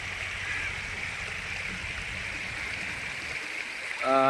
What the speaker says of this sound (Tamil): இங்கே பாருங்கள் தண்ணி வெள்ளம் ஓடிக்கிட்டு இருக்கு